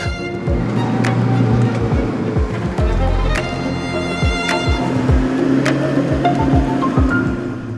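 A classic BMW 2002 tii is driven along, its engine note rising and falling through gear changes, with repeated thumps and rattles from the road and cabin over a steady rumble.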